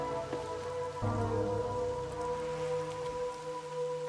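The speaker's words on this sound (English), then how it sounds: "Until recently, I despised this rain." Rain falls steadily in the video game Rain Code, a constant patter on surfaces mixed with sustained, moody background music.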